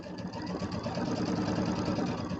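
Sewing machine stitching fabric for a holiday quilt project, a continuous close, even motor hum with rapid needle chatter throughout, heard alone without talk.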